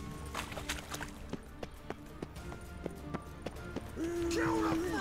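Horse hooves clatter in a steady clip-clop rhythm in The Witcher 3, repeated sharp thuds at moderate distance, followed near the end by a brief rising whinny-like tone, with a voice present.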